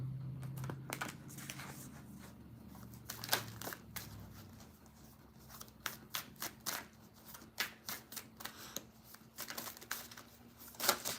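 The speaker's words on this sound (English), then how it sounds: "I'm gonna shuffle 7 times." A deck of tarot cards being shuffled by hand, with repeated crisp riffles and slaps in an irregular rhythm, close and fairly quiet against a low steady hum.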